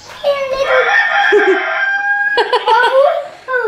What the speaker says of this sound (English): Hey, little chicken.